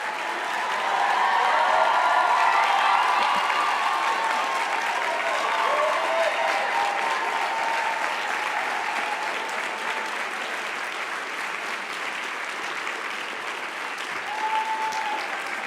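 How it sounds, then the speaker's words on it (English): Sustained audience applause at a closing ceremony as award recipients walk to the stage, a steady wash of many hands clapping that holds evenly for the full stretch, with a faint tone briefly rising through it. "Let's give them all a big round of applause as they come to the stage."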